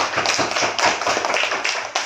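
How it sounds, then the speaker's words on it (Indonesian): A short burst of applause, many hands clapping quickly and irregularly, fairly close and steady throughout. "Tepuk tangan."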